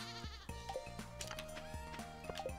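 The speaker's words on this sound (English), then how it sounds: "Get out of our garden, goat!" A goat bleats several times in the Stardew Valley farming game, with short nasal cries over cheerful background game music and small interface blips. No one speaks.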